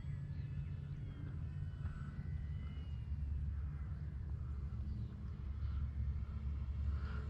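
The small engine of a radio-controlled Cessna 182 model airplane drones steadily at a distance, a faint buzzing hum holding over low rumbling wind noise, with no talking.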